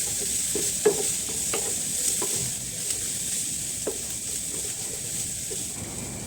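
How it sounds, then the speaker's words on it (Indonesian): Anchovies and chili sizzle in a hot pan after shallots and garlic, a steady frying hiss broken by soft scraping stirs of a spatula, close and continuous. "masukkan teri dan juga cabai. Ditumis lagi sampai harum."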